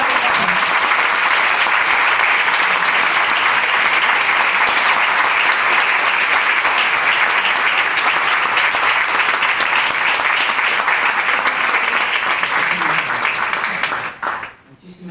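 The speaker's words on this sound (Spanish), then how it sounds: "Un aplauso para Amelia." Sustained, loud applause fills a university faculty hall as an audience greets a visiting philosophy professor, an even roar of many hands that runs unbroken for about fourteen seconds before stopping abruptly.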